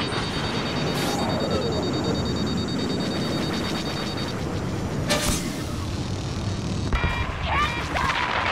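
Homing missile incoming and exploding in Star Wars Battlefront, loud crashes and blasts over a dense roar of battle noise, with a sharp streaking whoosh midway and more impacts near the end.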